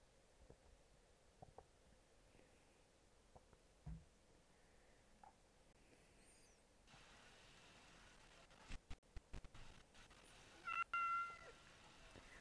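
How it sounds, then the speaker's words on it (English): A cat meows faintly in short, separated calls during a Lorerim playthrough of modded Skyrim, set against quiet ambient game sound with brief louder bursts toward the end. "Meow. Kitty cat."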